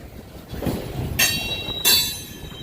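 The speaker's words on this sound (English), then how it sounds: "We're catching this train going by." A train rolls past at close range in Old Town Spring, Texas, a historic railroad town, with loud rumbling wagons and two sharp bursts of high metallic wheel squeal over the steady rail noise.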